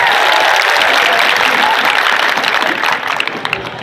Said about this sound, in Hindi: कम से कम तालियां तो जोर से बजाया करो।